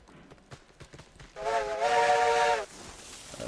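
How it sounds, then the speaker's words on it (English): A steam locomotive whistle in the RailRoads Online train game gives one loud, steady blast of about a second, rising suddenly over quiet rumbling and clicks and then cutting off. "that whistle should be quieter"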